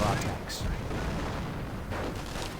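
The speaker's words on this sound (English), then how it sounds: "Of course, lots of automatic fire again." Heavy gunfire and battle explosions from a Company of Heroes match, loud and continuous with a dense rumbling texture, under a voice commentating.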